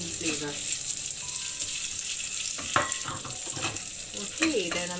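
Tomatoes fry in oil in a pan with a steady, close sizzle, broken by a few clinks and scrapes of stirring.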